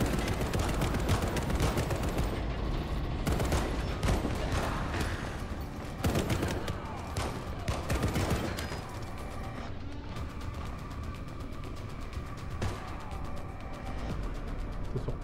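Distant gunfire crackles almost continuously through a tense firefight in the PC shooter Section 13, with scattered sharp bursts and rattling volleys over a dense, steady game soundscape.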